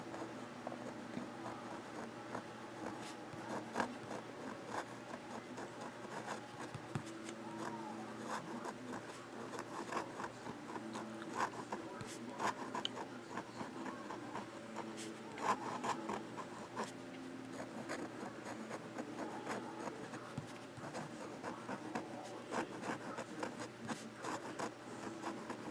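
A Waterman fountain pen with a cartridge scratches across paper in reverse writing, a faint, close, continuous scratchy rasp made of short strokes and brief taps, with no voices.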